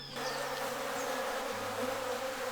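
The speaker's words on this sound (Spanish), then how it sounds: "Esto va a estar lleno de abejas recogiendo la miel que hay acá." Bees swarm around a farm hive during honey harvesting in Colombia, a steady, dense buzzing drone that stays close and continuous throughout, with no talking.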